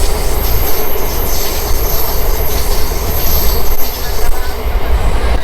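Loud passenger train running through Bihar, a steady close roar of wheels on rails with rhythmic clatter and a high metallic squeal held throughout, heard from inside the coach.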